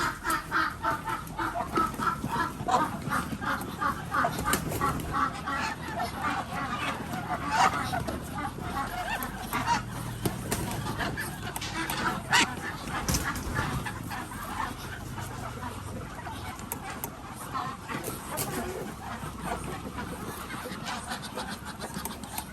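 Muscovy (Barbary) breeder ducks on a farm during vaccination, with repeated close honking and clucking calls from several birds over a bustling background, and people talking at times.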